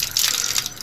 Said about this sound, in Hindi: तो अभी जो है ना हम भरते हैं पानी